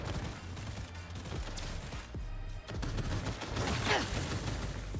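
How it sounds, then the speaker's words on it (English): Heavy, continuous gunfire in Cyberpunk 2077 Phantom Liberty, a dense fusillade of overlapping shots and booms, loud and constant throughout with a short dip in the middle. "Stop fucking shooting me."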